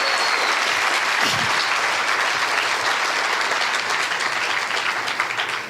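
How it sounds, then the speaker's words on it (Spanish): A church congregation gives a long, loud burst of applause during a Spanish-language sermon, sustained dense clapping that thins slightly at the end. "Puede darle un fuerte aplauso al Rey de Reyes."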